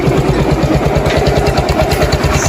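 A 160 cc motorcycle engine idles close by with a loud, rapid, rhythmic chugging and mechanical clatter, continuous throughout.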